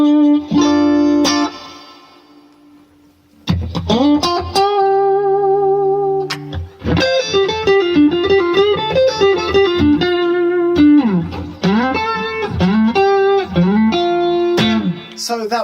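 Electric guitar played through a BluGuitar AMP1 on its clean channel with reverb added, with ringing chords and single notes in several phrases, a short pause after the opening, and a sparkling reverb tail. No one speaks over it.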